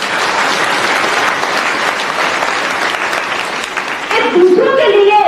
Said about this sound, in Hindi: सभी सेवेदारों के लिए आप जोर से ताली मारो।